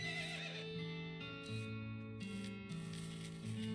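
A horse whinnies and neighs over steady background music in the game West of Loathing, the calls rising and falling in a few drawn-out bursts.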